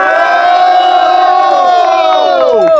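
A crowd at a Brazilian freestyle rap battle roars and cheers loudly, a dense sustained mass of shouting voices that stays strong throughout before starting to fade at the end.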